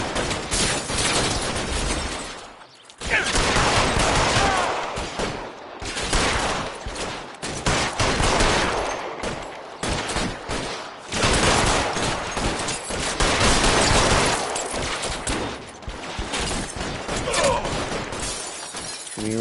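Gunfire in the video game LA Noire comes as dense volleys of loud, rapid shots and cracks in bursts, broken by short gaps, with a few game voices mixed in.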